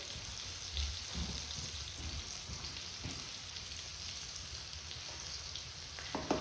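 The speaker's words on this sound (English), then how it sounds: "We're done with the frying of the shrimp." Steady crackling sizzle of shrimp frying in oil, close and continuous, with a few brief clatters along the way.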